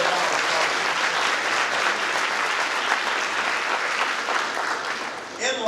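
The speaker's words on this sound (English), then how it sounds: "let's give them a round of applause" Audience at an academic scholarship and awards program applauds the recipients, a full, sustained roar of clapping at steady volume that dips slightly just before ending.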